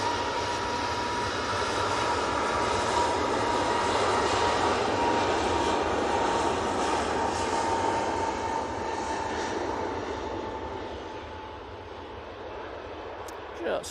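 A distant Aer Lingus airliner at Manchester Airport gives a long, broad engine roar that holds steady, then slowly fades toward the end, with no close talk over it.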